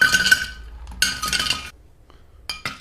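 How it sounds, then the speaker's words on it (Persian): Ice cubes are poured into a glass in bright clinking bursts, a clattering tumble, another rattling pour a second later, then a few sharp clinks, with no one speaking. "یخ بریز."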